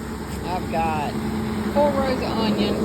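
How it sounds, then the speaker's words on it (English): Steady road traffic rumbles from a nearby busy street, a constant low engine drone with passing vehicle swells, under someone talking outdoors in a garden. "Sorry about the noise, I live on a busy road."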